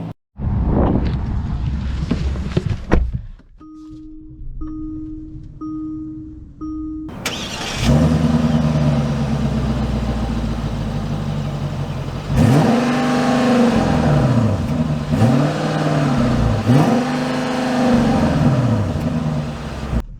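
A 2022 Genesis G90 5.0 starts with a clatter and a few short chimes. The engine then settles into a smooth, loud run with several rising and falling swells as it pulls away, and no one speaks.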